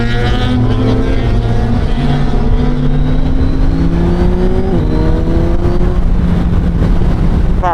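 A Suzuki Hayabusa inline-four motorcycle engine revs hard and accelerates, its loud, close howl rising in pitch through the gears with a brief drop at each shift, continuous and without speech.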